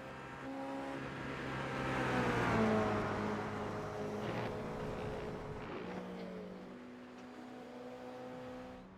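Race car engines in the iRacing sim, Toyota GR86 Cup cars at Lime Rock Park, rev and climb through gears during race-start practice, a steady layered engine drone that swells and falls with shifting pitch.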